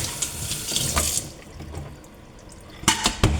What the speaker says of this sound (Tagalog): So hugasan na lang natin ng suka.